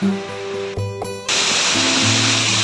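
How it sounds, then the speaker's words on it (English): A waterfall in Waterfall Valley, Tasmania, roars as a steady, dense rush of falling water that swells louder midway through, following some quieter, uneven sounds. "it's a little bit harder to show you a good picture of this waterfall"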